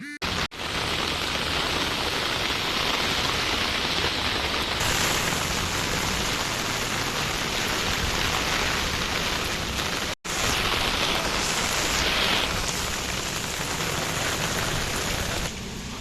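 Steady, heavy monsoon rain in Valsad district, Gujarat, pours down in a dense, continuous hiss with no voices, holding an even loudness throughout.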